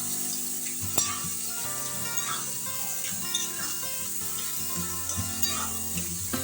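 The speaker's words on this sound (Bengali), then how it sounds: "এই কচুগুলো দিয়ে ভালোভাবে মিশিয়ে নেব মশলার সঙ্গে" Boiled taro is stirred into spices frying in a pan: a steady sizzle under repeated scrapes and knocks of the spoon against the pan, close up.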